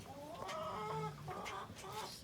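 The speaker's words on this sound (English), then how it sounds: "Here's Bethany, chickens, bunnies, and other chickens and the baby pigs." Chickens clucking inside a barn that also houses rabbits and pigs, with several overlapping hen calls repeating steadily at close range and no talk.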